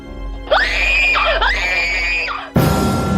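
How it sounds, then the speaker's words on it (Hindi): A woman screams loudly in two long, high-pitched wails that bend and waver, followed by an abrupt burst of noise. "राशि जोर से चीखी"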